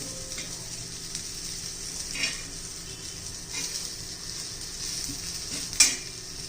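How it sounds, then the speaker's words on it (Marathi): Vadi pieces pan-roasting until crisp on both sides, served as part of a Shravan fast-breaking thali: a steady soft sizzle from the pan throughout, with occasional faint scrapes and one brief clink near the end, no talking. "दोन्ही बाजूने खमंग खरपूस अशा आपण भाजून घेऊ"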